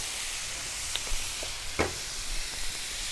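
Catfish frying on a Blackstone griddle alongside vegetables, a steady close hiss with a few soft scrapes and ticks, no talk.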